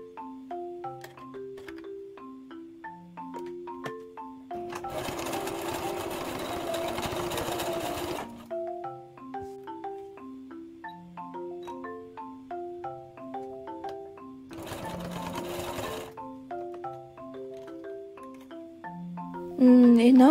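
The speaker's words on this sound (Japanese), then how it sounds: "糸のセットが完了したので試し縫いをしてみたいと思います。" A sewing machine runs test stitches on a scrap of curtain fabric in two loud, steady whirring bursts, the first longer, with soft instrumental music playing throughout.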